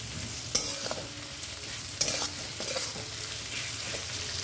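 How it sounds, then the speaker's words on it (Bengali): Chopped onions with a pinch of salt frying for mutton kosha, a steady close sizzle with stirring scrapes and two sharp spatula knocks against the pan. "দিয়ে পেঁয়াজটাকে আমি কষিয়ে নেব"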